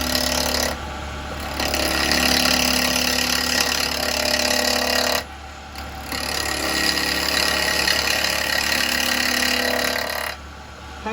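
A spindle gouge cuts a live-edge yew bowl on a wood lathe, giving a loud, steady rasping whir in two long passes separated by brief pauses.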